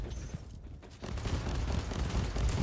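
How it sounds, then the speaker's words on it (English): Heavy bolter fire in the Warhammer 40,000: Inquisitor - Prophecy game, a dense rumbling stream of rapid shots running steadily for a few seconds after a brief lull, loud and building toward the end. "That heavy bolter was not firing for long."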